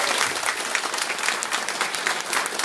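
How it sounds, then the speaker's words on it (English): A round of applause from the audience at a fireside chat, dense and steady clapping at fairly close range throughout the short stretch. "can you please join me in giving both of them a round of applause"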